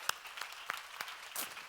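Scattered claps from a church congregation during a Korean sermon, a few distinct hand claps spaced across under two seconds, fairly faint and without speech.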